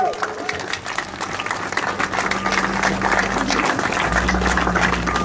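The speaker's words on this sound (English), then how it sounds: "Give yourselves all a round of applause for standing in solidarity." An outdoor crowd at a solidarity gathering claps. A dense round of applause swells under voices and crowd noise and continues for several seconds.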